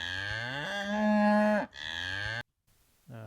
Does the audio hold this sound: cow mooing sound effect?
yes